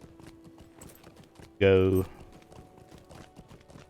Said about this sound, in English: we'll climb on board my horse and turn around